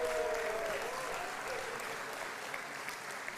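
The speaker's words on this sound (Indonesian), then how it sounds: "Tepuk tangan dulu" An audience at a formal anniversary celebration bursts into sustained clapping, loud at first and then easing slightly as it continues, with a faint voice near the start.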